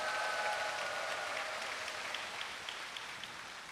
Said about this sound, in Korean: 뜨거운 박수로 모시도록 하겠습니다